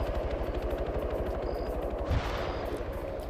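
Rapid automatic gunfire in a competitive online shooter match, a dense, continuous rattle of close shots with a heavier thump partway through and no talk.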